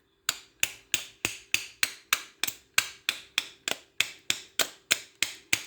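A screwdriver is struck in a steady series of about fifteen sharp metallic blows to push the shims out of a microwave oven transformer, each knock clear and close with a quick ringing decay.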